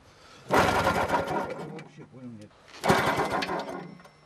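Loggers crank a frozen tractor engine in the snowy Siberian forest: two loud, rough cranking bursts that sputter without catching, separated by a brief pause with a voice.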